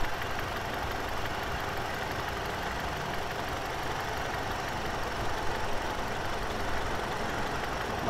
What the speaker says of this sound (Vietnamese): Máy nổ.